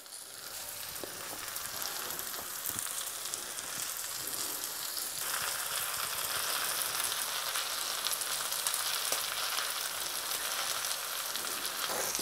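Liver lightly dusted in flour sizzles in a hot pan, a steady, even crackle with faint spitting pops, close and moderately quiet, no voices.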